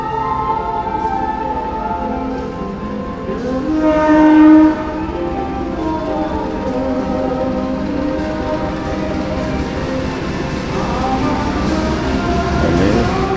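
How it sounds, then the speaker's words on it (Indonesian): An old Sawunggalih passenger train rumbles past nearby with a sustained horn blast partway through, then continues rolling steadily with a loud, even mechanical drone. "Nah, ini keretanya."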